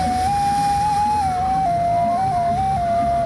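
A single soft, breathy tone from a small, simple ocarina with a muffled sound holds a steady pitch, shifting slightly up and down between notes, played alone over faint background noise.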